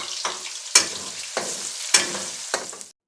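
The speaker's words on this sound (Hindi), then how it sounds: "इसी ऑयल में जिसमें हमने चिकन फ्राई किया उसी में प्याज को फ्राई करेंगे" Onions sizzle and crackle in hot oil left from frying chicken while being stirred, with about five scraping bursts in a loose rhythm, close and fairly loud.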